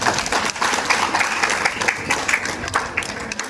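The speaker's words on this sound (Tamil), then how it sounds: "இந்த கைதட்டு போதாது," Audience clapping at a school Independence Day program held at St. Ignatius Church, Kovalam, a steady mid-level crowd applause lasting throughout with scattered individual claps.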